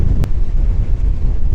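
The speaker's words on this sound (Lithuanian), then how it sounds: "Bet stiprus vėjas pučia." Strong offshore wind blows across the sea, buffeting the microphone with a loud, constant rushing roar and one sharp gust-like burst early on.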